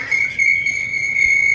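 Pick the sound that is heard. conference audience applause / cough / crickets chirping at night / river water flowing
crickets chirping at night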